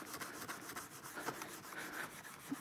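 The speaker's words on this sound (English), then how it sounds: "Let's just see what happens with a little bit of Scotch-Brite." A Scotch-Brite pad rubs over the mottled metal surface of a bass guitar part, making a faint, steady scrubbing hiss with quick repeated strokes.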